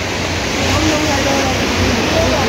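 Mountain river at Beni, Mustang, rushing steadily with dense continuous broadband roar, loud and close throughout with no pauses.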